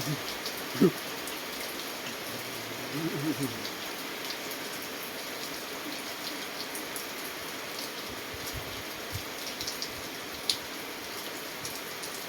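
Steady, soft rainfall patters on a surface, with occasional louder drips standing out against the constant wash.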